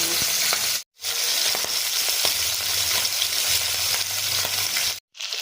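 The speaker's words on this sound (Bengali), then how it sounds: "মাছের এক পিঠ খুব ভালোভাবে ভাজা হয়ে গেছে" Fish, katla and small tengra, shallow-frying in a pan: a loud continuous crackling sizzle with faint spatters and a low rumble, briefly cutting out twice.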